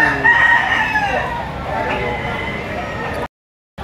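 A gamefowl rooster crows loudly at the Lipa City auction market as people talk nearby, and the sound cuts off abruptly near the end.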